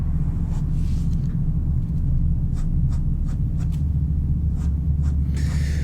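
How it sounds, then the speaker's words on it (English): A pen draws contours of clothing folds on paper in pen-and-ink style, with faint repeated scratchy strokes over a low, constant background rumble. "So let me draw the contours here."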